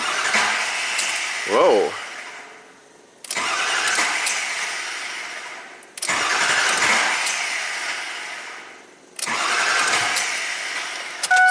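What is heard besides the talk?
2003 Ford F450 PowerStroke diesel engine cranking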